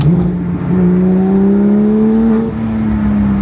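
A white hypercar engine revs up close and loud, its rising tone sliding higher and settling into a sustained, smooth whining roar.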